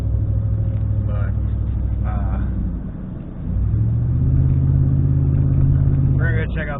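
A car cruising down Maple Street, heard from inside as a steady low engine hum and road rumble that dips briefly and then returns stronger, with short bits of voice over it.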